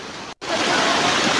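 Flowing stream water rushes in a steady, broadband wash outdoors in Armenia, close and continuous apart from one brief cut near the start.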